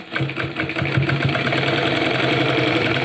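A sewing machine stitching a pant seam, a loud, close, rapid mechanical chatter that runs continuously with even rhythm.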